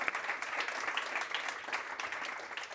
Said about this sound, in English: So please join me in an applause